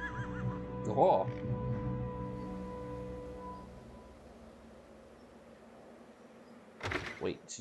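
A horned horse neighs briefly early on over a steady Tactics Ogre: Let Us Cling Together soundtrack, with another loud burst near the end.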